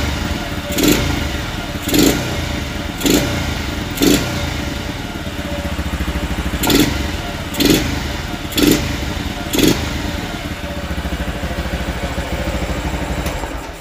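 A Honda NSR two-stroke motorcycle engine, freshly fitted with an overhauled carburetor and local aftermarket parts, idles close by and is blipped through about eight sharp rev bursts in two spaced groups.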